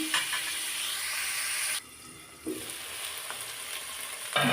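Cauliflower stalks frying in a covered pan give a steady, close hiss of sizzling oil that briefly drops away and then returns more softly, with a louder burst of sizzle at the very end.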